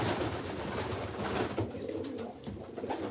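Pigeons coo inside a loft in a steady, soft, continuous murmur of overlapping calls, close by, with no one talking.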